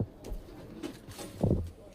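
A pigeon kept in a loft coos in low, throaty pulses that swell to a louder burst near the end, close and fairly soft.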